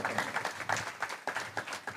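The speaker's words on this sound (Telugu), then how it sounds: "చప్పట్లు కొట్టి దేవుని మహింపరుద్దాం." A church congregation claps in praise, a dense, rhythmic burst of many hands beating together in steady pulses, moderately loud and without talk over it.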